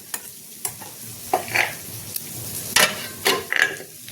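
Potato, pumpkin, bitter gourd and long beans fry in a pan, with bursts of loud sizzling and scraping as the vegetables are turned, separated by quieter hissing gaps; no talking.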